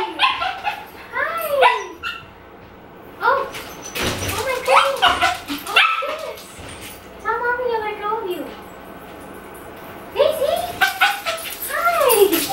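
A dog barks in short bursts and whimpers with high, rising yips inside a 100-year-old house, the calls close and intermittent with brief pauses and thumps between them.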